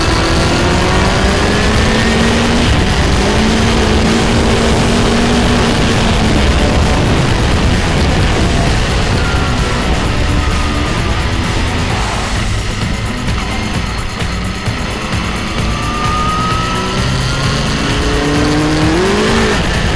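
Race car engine at the Croix-en-Ternois track, droning loud and steady with rising and falling revs as the wheels slip on pull-away, continuous and close throughout.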